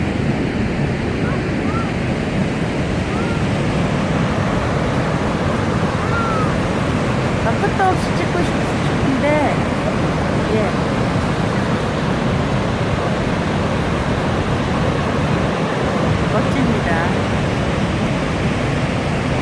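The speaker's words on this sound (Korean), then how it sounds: "폭포수에서 떨어지는 그 빗물이 바람을 타고 이렇게 많이 날라오는 거예요" Constant roaring rush of falling water and wind-blown spray at Niagara Falls, loud and unbroken, with faint voices in the background.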